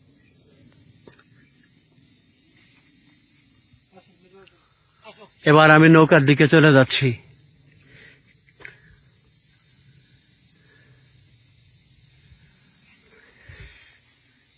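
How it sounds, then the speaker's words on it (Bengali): Crickets in the Sundarbans mangrove forest keep up a continuous high, even chirring drone from start to finish, with someone speaking briefly over it partway through. "ঝিঝি পোকার ডাক শুধু"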